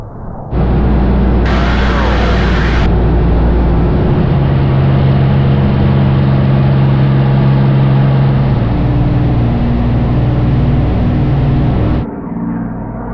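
Twelve-cylinder engines of a P-38 Lightning and a P-51 Mustang drone steadily and loudly in flight, with a sustained harmonic hum that shifts pitch partway through and then drops back to a lower level near the end.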